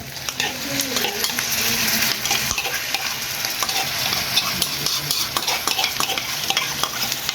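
Chicken liver sizzles steadily in a hot pan while seasoning goes in and a utensil stirs and scrapes through it, a close, continuous frying hiss broken by light metallic clicks.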